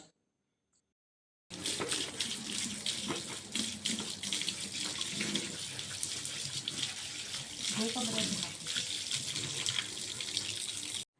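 Tap water runs steadily into a sink as a spray mop sponge is washed, a continuous close splashing rush that starts abruptly after a short silence and stops at the end.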